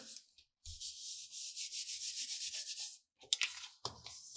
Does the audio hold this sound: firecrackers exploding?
no